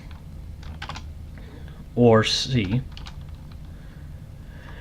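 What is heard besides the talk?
typing on a computer keyboard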